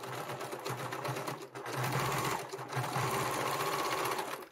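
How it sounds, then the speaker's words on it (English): Sewing machine top stitching a seam on a sling bag, a steady fast whirring run with brief pauses, loud and close. "I like to top stitch this twice."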